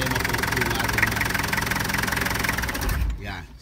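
A Hyundai Grace with a D4BX diesel engine, faulty and smoking at the dipstick and breather hose, runs with a loud, steady rapid knocking clatter that cuts off abruptly near the end.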